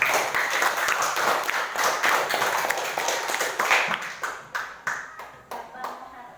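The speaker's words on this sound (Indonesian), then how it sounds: "Beri tepuk tangan boleh." Audience clapping at a school event, a dense patter of hands that thins toward the end into a few scattered individual claps, with some voices mixed in.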